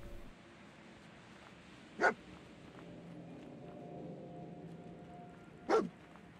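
Two sharp dog barks in the Fallout 4 video game, spaced a few seconds apart, over a low ambient hum with no talking.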